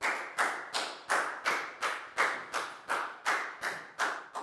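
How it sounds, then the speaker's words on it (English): In a Year 4 math lesson, claps ring out in an even, unhurried rhythm, about a dozen sharp, distinct claps spaced regularly, close and alone without voices. "Big round of applause for Pat,"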